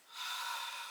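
A single long, slow breath drawn during a yoga shoulder-opening pose, soft and close, rising and then holding steady in an otherwise quiet room.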